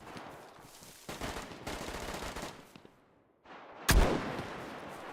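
Bursts of gunfire in the video game DayZ on Hashima Island, rapid automatic shots in stretches with a short gap, then a sharp loud report followed by more firing, no talk.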